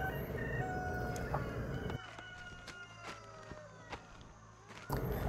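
Free-range chickens roam a sloping hillside farm, with a rooster crowing and hens clucking amid steady outdoor ambience and scattered sharp bird calls. A voice speaks briefly.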